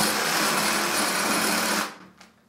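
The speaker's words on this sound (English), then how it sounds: "Most people are taking metal away with rotary tools, and this is a reciprocating tool." A handheld reciprocating power file cutting metal makes a dense, rapid buzzing rasp, loud and steady for under two seconds before stopping abruptly, followed by a faint brief clink.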